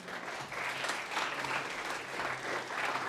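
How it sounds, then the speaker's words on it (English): Audience applause for award presenters walking on at a startup pitch competition's award ceremony, a steady, fairly loud clapping that swells and holds for the full stretch with no talk over it. "Big applause for them."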